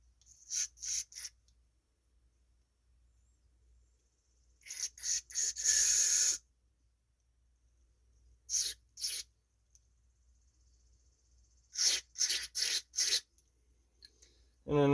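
Short bursts of carb cleaner spraying into the carburetor of a Troy-Bilt walk-behind leaf blower, coming in clustered hissing squirts separated by quiet gaps, close and fairly loud.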